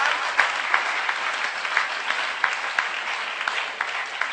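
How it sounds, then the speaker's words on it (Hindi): Steady applause from an audience at a comedy poetry gathering for an Agrasen Jayanti celebration in Kaithal, a sustained dense clapping across the whole stretch with a few sharper individual claps standing out. "तो जोरदार उठे तालियों का तूफान एक बार।"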